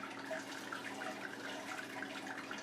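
Sparge water for home brewing draining through a grain bed, a steady close trickling and gurgling flow with no talking.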